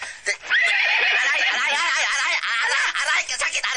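A horse lets out a loud, close whinny lasting a few seconds, with a shaky, trembling pitch and some voices around it.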